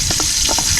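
Garlic frying in a pan, a brief close sizzle with a few soft stirring scrapes, heard alone.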